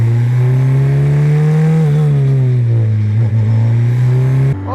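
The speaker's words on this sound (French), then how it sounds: "on retrouve tous les trucs qui font une voiture de course, c'est-à-dire un bruit assourdissant à l'intérieur" Formula 4 race car engine revving loudly as heard from inside the cockpit during a first gentle warm-up run, a steady deep drone with rising and falling pitch, ending abruptly near the close.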